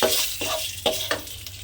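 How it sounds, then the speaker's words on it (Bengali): Asafoetida stirred into hot oil for a white potato chorchori, with a continuous sizzle broken by several quick scraping stirs, close and fairly loud. "আমি এর মধ্যে দিয়ে দেব অল্প সামান্য একটু পরিমাণে হিংটা দিয়ে আমি তেলের মধ্যে আবারও একটু নেড়ে নেব"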